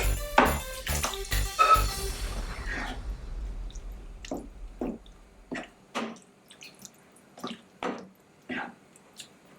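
Pieces of cooked mutton go into a thick cashew paste gravy for a Kerala-style curry with dry fruits, dense wet squelching at first, then scattered soft plops and drips, close by.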